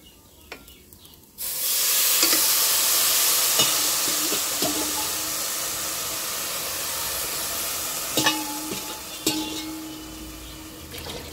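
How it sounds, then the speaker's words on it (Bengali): Water poured into a hot pot of rice, about three cups for one and a half cups of rice, sets off a loud, steady hiss and sizzle that starts abruptly and continues throughout, with a few faint clinks. "এবার এর মধ্যে জল দেব। আমি এই কাপটা মেপে দেড় কাপ এতে চাল দিয়েছিলাম, ওই জন্য আমি তিন কাপ জল দেব,"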